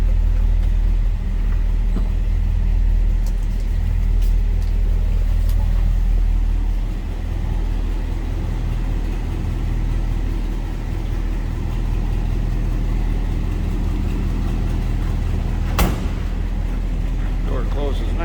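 A 1956 Ford F100 pickup with dual exhaust idles steadily, a deep low rumble heard close up for the whole stretch, with a voice talking over it and a sharp knock near the end.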